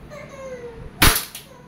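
A WE airsoft Glock 17 Gen 5 pistol fires a single semi-automatic shot during a chronograph test: one sharp, loud crack with a short follow-up snap, set against quiet background.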